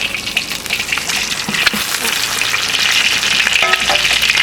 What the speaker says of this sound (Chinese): 你这个我帮你煎脆